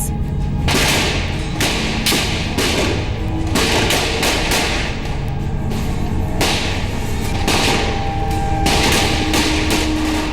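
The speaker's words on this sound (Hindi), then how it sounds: "गोलियों की आवाज" Archive footage of the 2001 Parliament attack carries dense gunfire, sharp cracks and thuds in irregular bursts over a continuous loud background.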